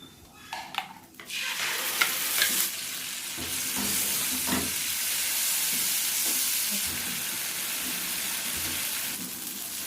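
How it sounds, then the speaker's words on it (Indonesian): Ground spice paste sautéing in a little margarine for a red bean soup sizzles loudly and close after a few opening clatters, then settles into a dense, continuous hiss. "Ini aku lagi mau menumis bumbu halus menggunakan sedikit margarin teman-teman"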